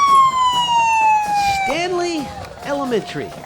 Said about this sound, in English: And if you heard a siren in the background,